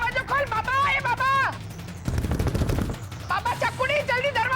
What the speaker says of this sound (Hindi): इतना बड़ा धमाका सुना मैंने